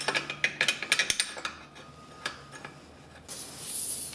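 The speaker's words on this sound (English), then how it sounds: "Next we'll reinstall the bolt." A ratchet tightens the clutch bolt on a Polaris Sportsman 800 ATV, a quick run of evenly spaced close clicks, then a few scattered ones before a softer hiss takes over.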